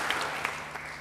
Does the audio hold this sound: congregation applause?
yes